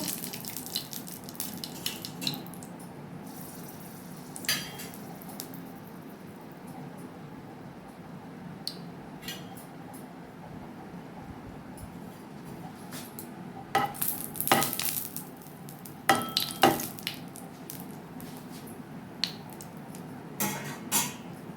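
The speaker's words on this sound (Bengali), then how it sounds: "তেল গরম হয়ে গেছে, দিয়ে দেব শুকনো লঙ্কা দুটো" Two dried red chillies drop into hot mustard oil in a frying pan, giving a soft, quiet sizzle with light stirring and a few sharper clinks of utensils against the pan near the end.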